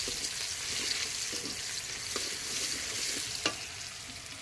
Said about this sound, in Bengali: আমি পেঁয়াজ ফোড়নে দিয়ে দিচ্ছি একটু কালো জিরা, এরপরে দিয়ে দেবো একটু পেঁয়াজ কুচি